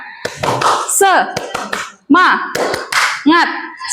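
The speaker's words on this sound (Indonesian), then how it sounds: "misalnya ibu ngomong tepuk semangat gitu ya" A teacher in a classroom leads a 'tepuk semangat' clapping chant, sharp rhythmic hand claps in short groups mixed with a spoken voice, close and loud.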